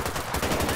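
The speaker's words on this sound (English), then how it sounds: "Someone's shooting." Rapid automatic gunfire rattles in quick repeated bursts during a GTA 5 police shootout, loud and close, with no talking over it.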